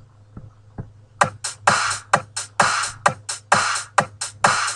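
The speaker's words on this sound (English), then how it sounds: "So the drums sound like this." An electronic drum pattern programmed in FL Studio with punchy kicks and bright, noisy hits in a steady repeating rhythm, loud and alone.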